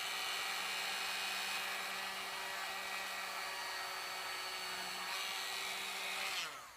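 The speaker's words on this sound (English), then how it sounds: "we're going to drill a hole on the handle." A power drill whines at a steady high pitch for several seconds, close up, drilling a pilot hole in a handle, then winds down as the bit stops.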